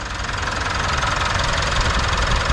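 A 2016 Mitsubishi Montero engine idling steadily up close after alternator and compressor belt replacement, an even low rumble with a faint rhythmic ticking and no changes in pace.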